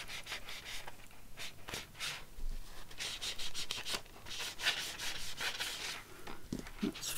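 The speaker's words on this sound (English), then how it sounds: "I'm going to crease it in with my bone folder and then go along there and ink." A bone folder rubs and scrapes along folded paper for a journal base, making a quiet, continuous brushing sound with repeated strokes.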